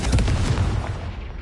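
A Confringo spell blast in Hogwarts Legacy lands as a single deep, booming explosion that hits hard at once and then rumbles away over about a second.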